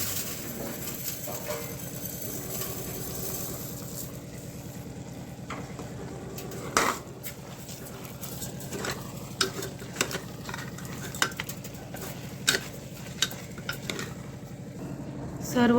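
Basmati rice frying in a pot for a pressure-cooker mutton biryani, a continuous low sizzle under scraping and several sharp clinks of a spoon against the metal pot.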